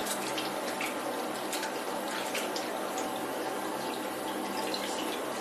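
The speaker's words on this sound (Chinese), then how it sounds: "然后用清水清洗2遍，直至盐分基本清洗干净为准。" Fish slices are rinsed in clean water, a steady soft wash of running and splashing water continuing throughout at low, even loudness.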